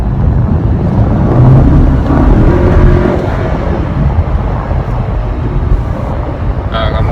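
A replacement car, loaned while the owner's own car is in for repair, is being driven. Its engine and road noise form a steady, close rumble from inside the cabin, with a voice faintly present at times.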